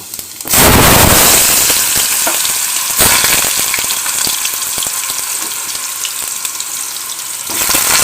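Raw mangoes drop into hot oil with dried chili and five-spice, setting off a sudden loud sizzle that crackles and pops steadily, easing slightly before swelling again near the end.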